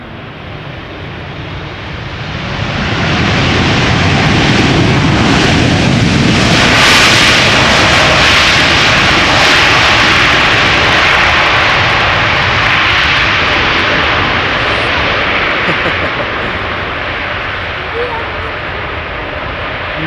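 A Nippon Cargo Airlines jet at Amsterdam Schiphol Airport roars up after a quieter start into a loud, sustained broadband engine thunder that holds for many seconds, then eases slightly while staying powerful.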